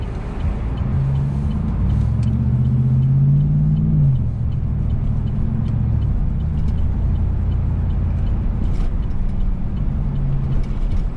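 A lifted truck with a nine-inch lift cruises along a city street, heard from inside as a loud, steady low engine rumble and road drone with a slowly rising and falling tone.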